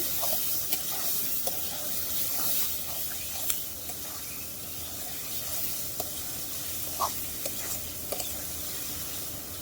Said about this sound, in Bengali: মাছটা সামান্য একটু কষায় নেব